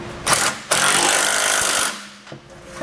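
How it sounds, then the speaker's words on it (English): A power tool runs in loud bursts, tightening the factory nuts on the trailer hitch studs of a 2017 Mercedes-Benz, close by with a short whir, a sustained rattling drive and a quieter trailing spin. "I'm gonna do the factory nuts first on the studs here on the back side. We'll snug those down."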